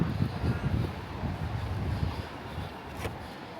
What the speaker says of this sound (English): it's so bloody windy.